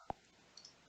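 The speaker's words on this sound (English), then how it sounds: "I'm just clicking here." One crisp computer mouse click, then a couple of faint lighter ticks, all close and quiet against near silence.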